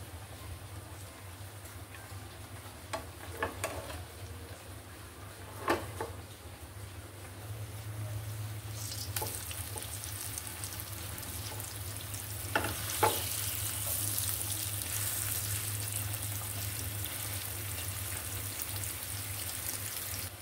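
Vegetable bhaji sizzling and frying in a pan on a home stove, a steady close hiss with occasional stirring scrapes and clinks, no voices.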